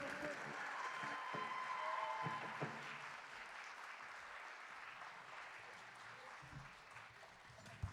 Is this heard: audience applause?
yes